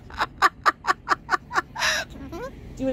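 A bird gives a quick run of about seven evenly spaced clucking calls, then a harsh squawk followed by short rising chirps, fairly close.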